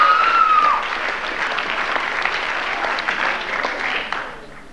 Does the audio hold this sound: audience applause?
yes